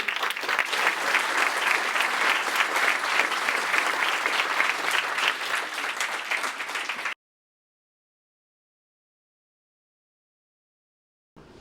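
Audience applause welcoming a speaker at a talk on the Black Panthers and Zapatistas, a dense steady clapping that fills about seven seconds before cutting off abruptly into silence.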